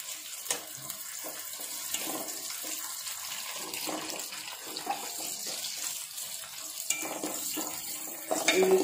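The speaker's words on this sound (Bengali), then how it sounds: "এরপর দিয়ে দিব পেঁয়াজ, বেশ খানিকটা পেঁয়াজ কুচি দিয়ে দিচ্ছি।" Chopped onions frying in a pot with whole spices for achari meat khichuri, giving a steady, moderate sizzle with light clinks and stirring throughout, slightly louder near the end.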